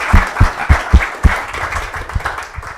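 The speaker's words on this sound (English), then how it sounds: "Round of applause for" An audience at CukenFest London 2019 claps for a conference speaker, a brief burst of applause with a few loud, distinct claps at first that soon thin into lighter scattered clapping.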